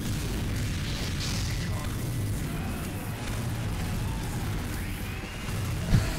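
A critical-hit explosion from a Deus Ex-themed weapon in Team Fortress 2, a heavy, sustained roaring boom that stays loud for several seconds and ends with a short sharp pop.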